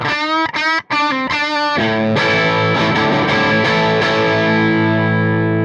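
An electric guitar through a clean amp plays a few short plucked notes, then lets a full chord ring out and slowly fade.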